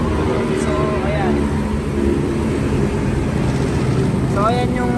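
A parked Yamaha Aerox scooter engine idles with a steady, loud low rumble, while a voice talks over it and wind buffets the microphone.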